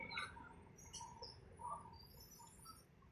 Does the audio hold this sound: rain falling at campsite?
no